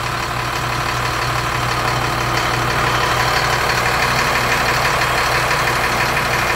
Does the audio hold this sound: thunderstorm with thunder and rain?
no